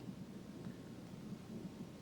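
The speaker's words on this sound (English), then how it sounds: "Oh, look, it's starting to rain." Rain and thunder sound effect in a stage play, a faint steady hiss of rain over low, rolling rumbles of thunder, quiet and distant with no speech.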